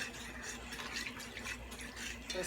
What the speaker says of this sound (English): Just keep adding water until it gets to the consistency that you would like